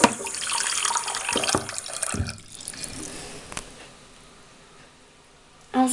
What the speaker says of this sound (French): Donc ça ici c'est mon petit robinet à moi.